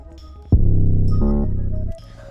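Deep 808 bass notes programmed in Ableton in standard glide mode, a low tone playing out and then sliding up to a higher second note, sustained and loud with faint residual hum.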